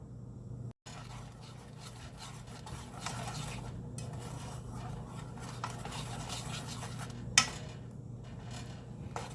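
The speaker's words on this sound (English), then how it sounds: "every minute we'll come back and stir it again" A wooden spoon stirs homemade maple fudge of butter and sugar in a pot. Faint, soft scraping and rubbing repeat steadily, and one sharp knock sounds near the end, with no talking.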